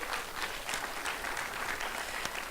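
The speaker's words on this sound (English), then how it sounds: "Could you clap and burn calories?" Studio audience claps steadily in a brief, even burst of applause at moderate volume, with no voices over it.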